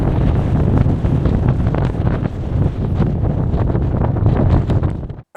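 Strong wind buffets the microphone at the Cross Fell summit shelter on the Pennine Way, a loud, continuous roar with gusty swells that holds steady for several seconds and then cuts off abruptly.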